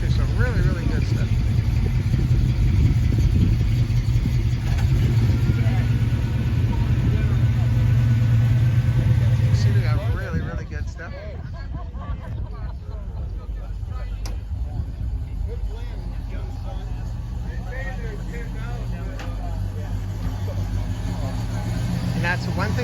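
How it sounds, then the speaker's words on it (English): Cars roll around a Jimmie Cone car cruise-in at Mount Airy, Maryland, with a loud rumbling engine passing close at first, then a lower background murmur of idling and moving vehicles while a person talks over it. "There's a lot of cars moving around."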